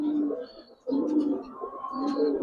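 Pigeons coo close by in low, repeated throaty phrases with a short gap partway through, faint chirps above, at a farm selling Giribaz and coloured breeds.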